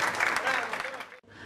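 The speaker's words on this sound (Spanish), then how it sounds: "Fuerte el aplauso" Strong audience applause at a 2012 tribute ceremony, dense steady clapping filling the room and cutting off abruptly near the end before a brief return.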